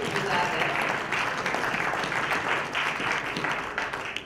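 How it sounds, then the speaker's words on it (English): Audience applause at the closing session of a global summit, a dense, steady wash of many hands clapping together that holds throughout and tapers slightly at the end. "So can you just give yourselves a round of applause?"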